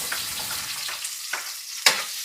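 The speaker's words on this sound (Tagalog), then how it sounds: "Gisa na natin tong bawang." Garlic and onion sautéing in a pan: a close, steady sizzle with a few light scraping stirs and one sharper clink near the end.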